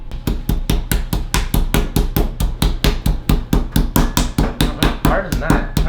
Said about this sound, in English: Do that again with the hammer.